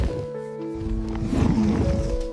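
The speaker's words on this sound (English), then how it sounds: "The lion growls but finally retreats." A lion gives a low, rumbling growl, close and forceful, swelling briefly in the middle before easing off, over a dim tonal background.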